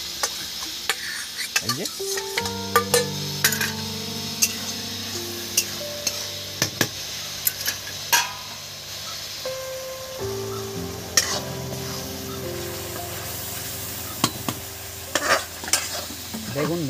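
Water poured into frying masala for a yogurt-based katla fish curry sets off a steady sizzle, broken by repeated scrapes and clinks of a spoon stirring in the pan, while someone talks over it.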